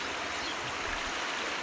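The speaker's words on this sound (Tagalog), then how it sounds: "Marinig nyo ang lagasas ng tubig." Rushing water of a cold, spring-fed stream in Davao Oriental, a steady broadband hiss of flow running continuously and close with no voices.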